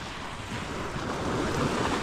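Sea waves wash onto a beach, a steady broad rush with wind buffeting the microphone, continuous and fairly loud for a couple of seconds.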